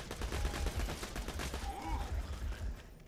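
Rapid automatic gunfire in the Borderlands 2 video game, a dense rattling burst of shots fired in quick succession that tails off near the end.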